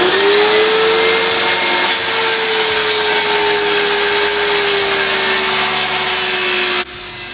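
A power saw runs steadily and loud while cutting 1.25-inch wood strips for an end grain cutting board, a sustained whining tone that dips slightly in pitch under load, then drops off near the end.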